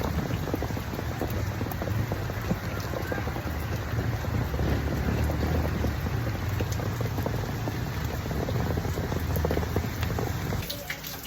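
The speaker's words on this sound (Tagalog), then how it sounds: "Ang lakas ng ulan eh. Ayaw tumila." Heavy rain pours steadily and loudly on surfaces, a dense continuous hiss with occasional low rumbles and no talk.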